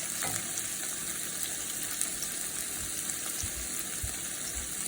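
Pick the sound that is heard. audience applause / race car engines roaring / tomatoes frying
tomatoes frying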